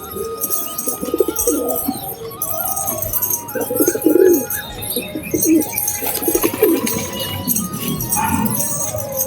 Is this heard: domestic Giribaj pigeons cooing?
yes